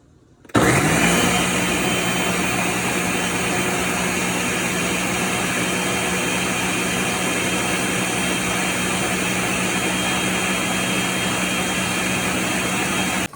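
A blender switches on abruptly and whirs at a steady, loud, high-pitched drone for the rest of the clip, blending a beef and bell pepper sauce, with no voices.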